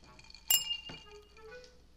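Two lemon sour cocktail drinks are clinked together in a toast, giving one quick, bright glassy clink followed by a softer knock in an otherwise quiet room.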